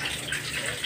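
Tap water running steadily into a kitchen sink while rice is being washed, a continuous close hiss and gush of flowing water with no talking.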